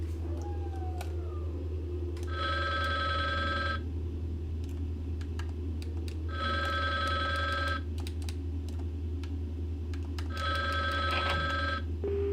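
A telephone rings in a video game, three evenly spaced long bursts of a steady electronic bell tone over a constant low hum, with faint clicks between them.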